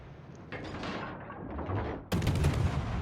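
Heavy naval guns of the battleship Shikishima firing in a warship game, a loud cluster of booming salvos with rumbling tails that ends in a sharper, harsher blast.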